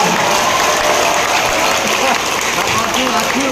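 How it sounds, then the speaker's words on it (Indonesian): At a political campaign rally in Sragen, a crowd applauds the volunteers in a loud, dense, steady burst of clapping that carries unbroken through the moment. "Tepuk tangan untuk para relawan."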